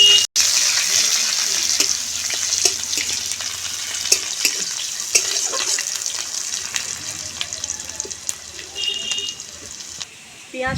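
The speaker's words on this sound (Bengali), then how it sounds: "পেঁয়াজ কুচিটাকে একটু নেড়ে চেড়ে ভেজে নেব।" Chopped onion sizzles and crackles steadily in hot oil, with occasional stirring scrapes, a continuous close hiss running throughout.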